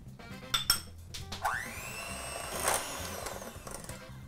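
Cream cheese and powdered sugar being stirred together for a cheesecake cookie filling, with soft clinks and scraping of a utensil against the bowl and a brief rising whir in the middle, fairly quiet and close.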